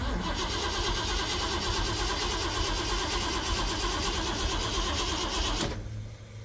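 A turbocharged 351 engine with an MSD 6AL-2 programmable ignition cranks on its first attempted fire, giving a loud, steady, rapid churning that holds for several seconds before cutting off abruptly and leaving a faint hum.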